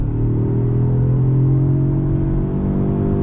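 A 2020 Jaguar XE R-Dynamic with all-wheel drive is held on throttle through a right-hand sweeper, its engine droning steadily and loudly from inside the cabin, with no speech.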